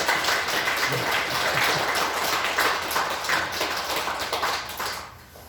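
A church congregation gives a big round of applause for a couple's wedding anniversary, with close, loud, even clapping from many hands that tapers off near the end.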